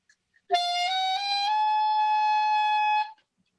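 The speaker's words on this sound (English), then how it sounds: "That's the highest note I can play." A high saxophone note played alone, wavering and sliding slightly upward before settling into a steady, thin tone held for a few seconds.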